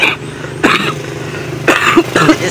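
A person coughs in quick bursts, three or four short rough hacks spread over a couple of seconds, loud and close over a low background hum.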